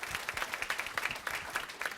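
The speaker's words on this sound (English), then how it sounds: "A round of applause for our saxophones." Applause for the saxophone section of a high school jazz combo at a Board of Education meeting, a modest scattering of hand claps heard at a distance, soft and patterned in quick uneven bursts.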